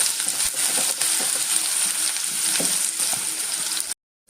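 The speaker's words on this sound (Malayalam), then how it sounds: "നല്ലോണം ഒന്ന് വഴറ്റിയെടുക്കാം." Shallots and garlic sauté in hot oil in a pan, giving a steady bright sizzle with occasional scraping stirs and small clinks, close and continuous before cutting briefly to silence near the end.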